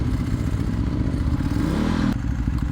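A 13-year-old Vyrus motorcycle being ridden, its engine a loud, steady low rumble throughout, with a brief clatter near the end.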